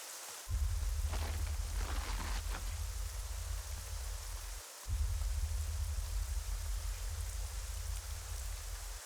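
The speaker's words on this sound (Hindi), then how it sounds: "बारिश बहुत तेज हो रही है, संभल कर जाना" Heavy rain pours down in a steady, dense hiss with a deep low roar, dropping out for a brief moment before the downpour returns just as strong, with no voices.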